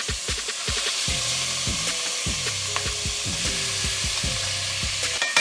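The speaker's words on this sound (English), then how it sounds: "It's gonna give you a little bit of the crack snap and pop a little bit just because it got the Worcester sauce on there." Beef short ribs coated in Worcestershire sauce sear in hot oil, with a constant loud sizzle broken by sharp crackles, snaps and pops and a few clattering pan or tong knocks, close and without voices.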